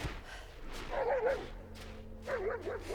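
Dogs bark and yip in a film scene, two short bursts of barking a moment apart, fairly close, over a low background hum.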